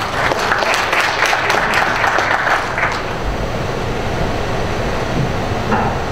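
Loud, dense applause from an audience at an inauguration ceremony for the 8th president of the Wangsimni Doseon-dong shopping street merchants' association, a steady wash of clapping that thins toward the end.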